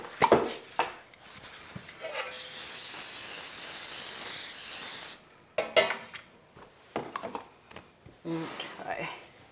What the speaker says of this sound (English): we're going to just lightly spray that